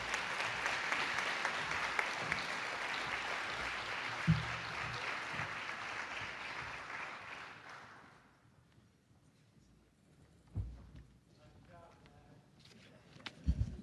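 Banquet crowd at a Hall of Fame dinner gives a men's basketball team sustained applause, loud and continuous for about eight seconds before dying away to a hushed room with a few scattered bumps.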